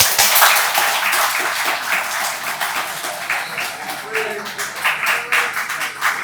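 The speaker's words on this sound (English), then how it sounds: "I did like this, and you all clapped." A lecture audience at a computer science talk claps together on cue in a dense burst of many hands. The applause runs loud and continuous throughout, easing and swelling slightly, with no speech over it.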